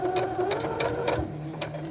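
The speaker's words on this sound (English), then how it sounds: "So we'll start sewing here." A sewing machine stitching a cloth face mask runs steadily and loudly up close, its rapid needle chatter holding an even rhythm for a couple of seconds with no talking.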